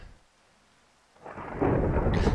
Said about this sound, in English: And how appropriate that it be raining. The storm's coming. The storms are brewing.